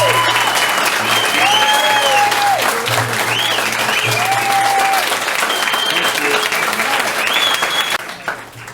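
A forum audience gives sustained, loud applause welcoming a speaker to the stage, a dense wash of clapping that carries on evenly for several seconds before tapering off at the end.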